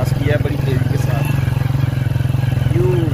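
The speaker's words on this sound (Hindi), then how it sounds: "भाई बशर दूसरी बाइक पे हैं जैन और भाई बशर, तो इन्होंने उनको क्रॉस किया बड़ी तेजी के साथ" A motorcycle engine runs loud and steady close by, with a strong low drone and faint clatter throughout, as bikes race past one another at high speed on a village road; voices murmur underneath.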